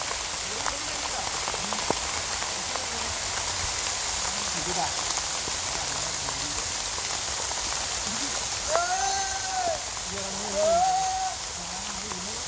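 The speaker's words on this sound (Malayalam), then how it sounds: "അപ്പം നല്ലോണം വെള്ളം നിറഞ്ഞിട്ട് പിന്നെ ഈ പെരുമഴയും" Heavy monsoon downpour drumming steadily onto a backyard pond, a dense even hiss throughout with faint distant voices and brief tonal calls rising through it near the end.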